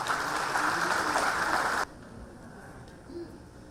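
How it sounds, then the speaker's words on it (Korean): Audience applause at a Busan Vietnam War veterans' association rally and branch chief inauguration ceremony: a dense wash of clapping that cuts off abruptly partway through, leaving quiet room tone. "큰 박수를 부탁드리겠습니다."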